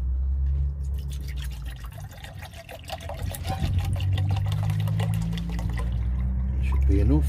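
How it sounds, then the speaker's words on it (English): Water poured into a pot for soup at an urban wild camp beneath a busy flyover, a close trickle and splash running under steady low traffic rumble, with a person talking over it. "Right, let's get some water boiled up for the soup."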